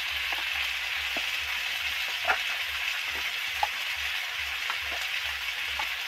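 Turmeric, chilli and cumin-coriander-pepper powders fry in hot oil for a mourala fish curry, giving a steady, close sizzle with occasional light scrapes and taps from stirring, and no talk.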